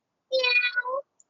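Children's voices imitate a cat's meow in a short group response, one drawn-out tonal "meow" lasting about a second, fairly clear and close.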